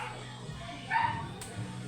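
A dog gives a single short yip or bark at close range, brief and fairly soft against the quiet background of a home where fish bought from a vendor is being shown.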